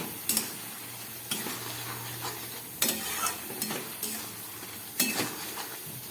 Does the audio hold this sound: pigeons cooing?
no